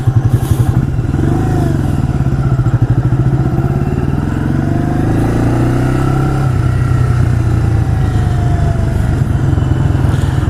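A 1985 Yamaha Virago motorcycle under way, its V-twin engine pulsing loudly and close with a throbbing rhythm, pitch shifting through gear changes amid wind rush.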